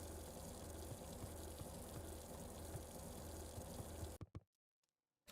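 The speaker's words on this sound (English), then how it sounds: "Oh yeah, I can hear the faucet." A faucet runs in the video game Beacon Pines: a steady, soft gush of water for about four seconds, then it cuts off abruptly into near silence.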